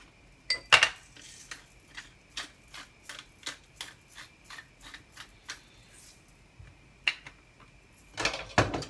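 A utensil scrapes and taps against a pan while calf liver and onions are stirred, a rhythmic series of sharp metallic clicks about twice a second, close and moderately loud, with a louder clatter near the start and end.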